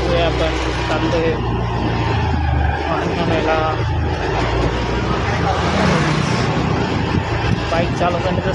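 A motorbike rides along a road at night, its engine and road rumble running steadily beneath close talking.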